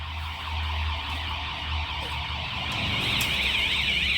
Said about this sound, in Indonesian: Kita lihat sistem alarm saya apakah bunyi juga.